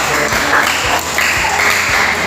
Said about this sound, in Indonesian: Silakan tepuk tangan buat.